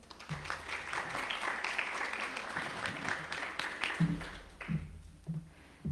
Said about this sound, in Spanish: Pido un fuerte aplauso, por favor.